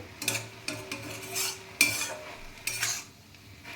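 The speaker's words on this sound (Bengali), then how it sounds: "একটু খুন্তি দিয়ে নেড়ে দিলাম মিলে দিলাম" A metal spatula stirs boiled greens in a pan as the water cooks off, making repeated scraping and clattering strokes in uneven bursts over a soft sizzle.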